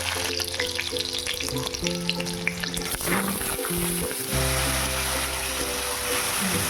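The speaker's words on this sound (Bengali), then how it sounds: "কড়াইতে দিয়ে দিচ্ছি জিরে ফোড়ন আর একটা কাঁচা লঙ্কা" Cumin seeds and a green chili sizzle in hot oil in a wok, giving a continuous bright crackling hiss with a brief louder burst partway through, over faint steady background tones.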